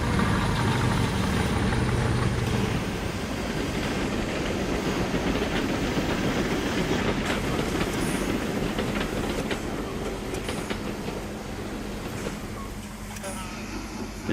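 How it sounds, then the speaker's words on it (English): A model train hauled by a Class 40 diesel locomotive runs past on the main line of a 1960s-style layout. A continuous clickety-clack of wheels with a motor hum holds steady throughout, moderately loud and fading slightly at the end. "on the main line, a train passes hauled by a Class 40"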